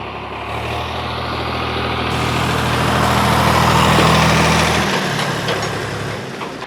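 A Sonalika tractor's diesel engine drives during a phone crush test, a deep steady rumble with low droning harmonics that swells louder toward the middle and then eases off, with no talk.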